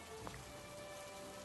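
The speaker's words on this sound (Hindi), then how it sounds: "बारिश बहुत तेज हो चुकी थी।" Heavy rain falling in a stormy night scene of a horror story: a steady, even hiss of dense raindrops spattering on a surface, continuous and fairly soft, with no voices.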